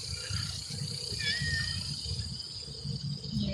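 A house cat gives a short meow over a low, continuous background rumble. It is fairly faint and brief.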